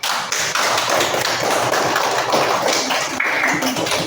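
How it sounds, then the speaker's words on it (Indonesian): A room full of people claps steadily, dense applause lasting the whole stretch without a break, loud and close. "Kita tepuk tangan yang meriah untuk menyambut kelompok 1"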